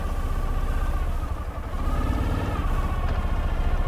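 A cold 2011 Ural T motorcycle engine runs with a steady, low, throbbing rumble close by, holding an even pace without talk.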